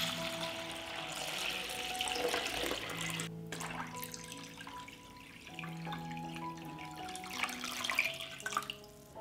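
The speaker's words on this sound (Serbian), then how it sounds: "Sipat ću vodu do visine poklopca." Water runs into a cooking pot lined with a cloth and filled with closed glass jars, a steady pouring wash with faint clinks, moderately close and without talk.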